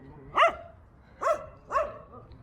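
Three sharp dog barks spaced irregularly, somewhat distant and moderately loud, with a faint low background hum between them.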